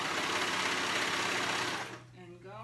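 A sewing machine stitches over a seam in a tank top with a fast, steady whirring hum up close, then slows and stops near the end.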